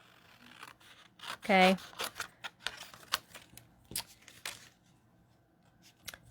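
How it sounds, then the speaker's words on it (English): Scissors snip out paper images in a series of short, crisp cuts spread across the moment, fairly close, with a brief spoken word partway through. "take my scissors here and I'm just going to cut these out"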